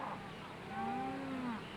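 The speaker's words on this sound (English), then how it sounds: "They're our spring calving cows." Spring calving cows on a heavy-soiled farm, one drawn-out low moo rising and falling for over a second, moderately near, alone without talk over quiet outdoor background.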